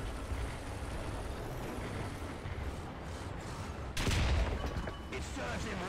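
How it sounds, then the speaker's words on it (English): Artillery fire in the War Thunder video game, with a dense, continuous roar of booming and rumbling that swells into a loud, heavy blast of impacts partway through. "Requesting for artillery fire!"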